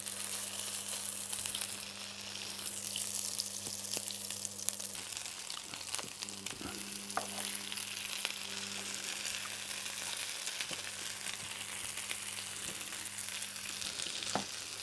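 Cantonese fried rice with egg sizzles in a hot pan, a loud, continuous close-up crackle broken by occasional scrapes and clatters as it is stirred, with no voices over it.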